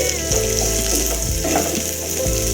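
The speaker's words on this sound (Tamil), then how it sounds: "நம்ம எண்ணெயில் வறுத்து எடுத்துக்கிறோம் அடுப்பை கொஞ்சம் மீடியம் சைஸில் வச்சு" Okra fries in oil over a medium flame with a loud, close, continuous sizzle, broken by a few soft stirring scrapes.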